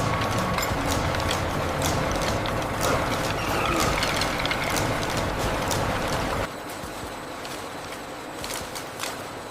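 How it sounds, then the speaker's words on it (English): Automatic machines gathering palm-fruit matchsticks into small bundles for matchbox trays clatter continuously with rapid ratcheting clicks and gear-like rattling, loud and close, easing slightly partway through. "automatic machines gather the matchstick into small neat bundles"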